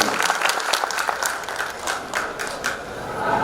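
An audience claps at a stage gathering of Punjabi performers, a dense burst of hand-claps that stays strong throughout with a little crowd noise underneath.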